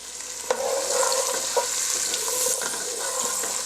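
Chopped onion, celery and carrots sizzle in hot fat in a soup pot for albondigas soup, with steady frying hiss and a few scraping stirs of a spoon, close and clear.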